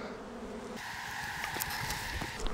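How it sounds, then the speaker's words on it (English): A swarm of honey bees in a hive box gives off a soft steady buzzing drone, close and alone, with a few louder individual bees passing near. "So there's so many bees in here"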